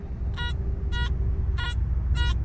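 An Anfibio metal detector gives four short, evenly spaced buzzy beeps over a constant low rumble, close and clear, with no one speaking.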